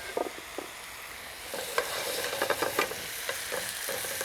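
Spinach sizzles and crackles steadily in a hot skillet, while utensils stir and scrape against the pan in soft, irregular clicks, close and without talking.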